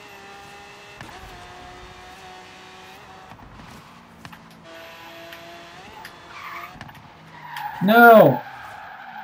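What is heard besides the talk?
car power slide skidding in Forza Horizon 3 video game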